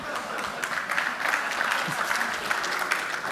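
A tech conference audience claps steadily at a moderate distance, a continuous patter of many hands with small bursts, lasting a few seconds without speech over it.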